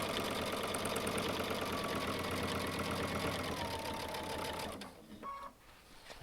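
Baby Lock Altair sewing machine stitching through five layers of denim, a steady rapid mechanical whir and clatter close up that runs for several seconds, then stops and leaves a few quiet handling sounds.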